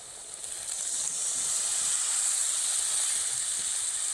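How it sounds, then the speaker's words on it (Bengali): Spice masala sputtering in hot oil just after a splash of water, a loud continuous hissing sizzle that swells and holds steady, close up with no talking. "তারপর কিছুটা জল দিয়ে মশলাটা ভালোভাবে কষিয়ে নেব"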